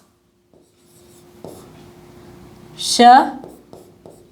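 Hindi letters being written on a board, a faint scratchy stroke followed by a louder scraping swipe, close up, with a voice speaking briefly over it.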